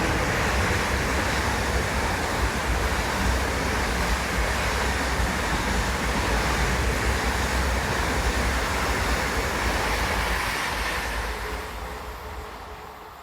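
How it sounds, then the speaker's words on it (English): An ICE 4 high-speed train roars past Ashausen station at close range, a broad steady rushing rumble that holds for about ten seconds and then fades away. "An ICE4 with a DB job ad."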